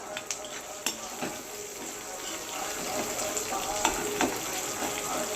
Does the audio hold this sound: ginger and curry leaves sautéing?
yes